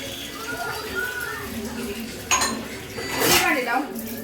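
Dishes and pots clatter in a home kitchen, with metallic clinks and a louder clang of pans being handled, while people talk over the sound.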